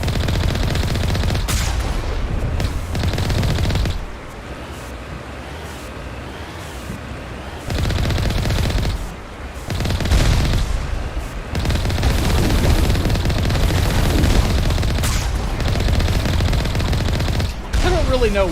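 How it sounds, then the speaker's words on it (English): Rapid bursts of video game gunfire cut down crab creatures in Mass Effect, dense automatic volleys with short pauses between them, loud and close, and a voice talks over parts of it. "I don't really know why I'm shooting these crab things."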